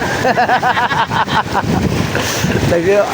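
Strong waves slap and wash against a small boat on open water, rough splashing and wind rumble, with loud voices talking and shouting over the water noise.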